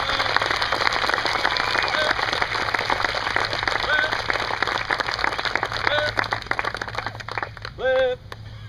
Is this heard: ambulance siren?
no